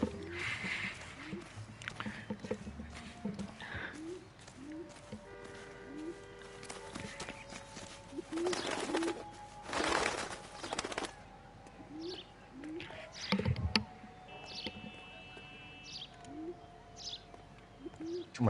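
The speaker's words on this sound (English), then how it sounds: "Pigeons." Pigeons coo softly in the video game L.A. Noire, repeated low calls mixed with footsteps and ambient game sounds at moderate level, with no talking.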